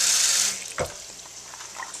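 Water gushes from a tap in a steady hiss, then cuts off, leaving a few small drips and clinks in a quiet room.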